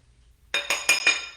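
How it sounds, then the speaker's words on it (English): A spoon taps and clinks four times against a glass bowl of melting chocolate in quick succession. The bright, ringing strikes are close and clear against near silence. "So I'm just giving the chocolate a little stir."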